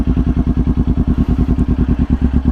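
A motorcycle engine ticks over in first gear while pulling away, a steady close, loping beat of low thumping pulses with no talk.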